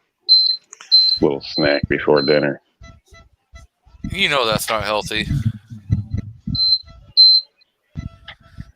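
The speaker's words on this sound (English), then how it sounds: "Especially when you trigger the smoke detector." A smoke detector sounds short, high electronic beeps in a home kitchen, several in a row at the start and a couple more later, partly under people talking nearby.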